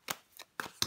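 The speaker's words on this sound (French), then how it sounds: "Je vais recouvrir des cartes pour vous les Gémeaux." Tarot cards handled and turned over one at a time during a reading, giving four short, crisp papery flicks and slaps spaced irregularly within a second, close and fairly quiet with no talking.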